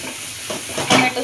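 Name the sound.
stirring spices in pan for matar paneer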